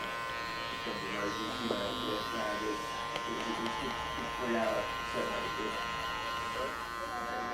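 Electric hair clippers with a 0.5 guard buzz steadily through a skin fade on thick hair, a constant close hum while someone talks over it.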